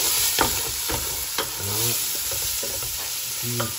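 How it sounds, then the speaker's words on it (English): Thyme fries in olive oil and butter in a pan ahead of cooking mussels, giving a steady close sizzle broken by sharp scraping strokes of stirring. "fried it with olive oil and butter"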